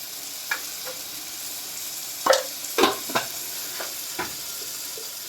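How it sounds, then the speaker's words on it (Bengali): Spinach cooked with snails is stirred in a pan over a soft, steady sizzle, with several distinct scraping knocks from the spoon spaced irregularly; close and alone, with no talking. "ভালো করে নেড়ে নেবো মিশিয়ে দিয়ে"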